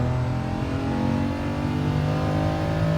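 A car engine in Gran Turismo Sport revs steadily while driving, a continuous loud drone that holds its pitch across the whole stretch with no voices.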